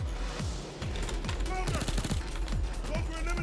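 Rapid bursts of suppressed AS Val (Valkyria) rifle fire from the Payday 2 video game, repeated shots with clicky transients over steady game ambience and effects, loud and close throughout.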